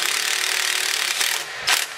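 A screw being driven into a 7/32 drilled hole on a log splitter, cutting its own threads: a steady dry grinding, rubbing rasp, close and continuous, with a couple of brief sharper scrapes near the end.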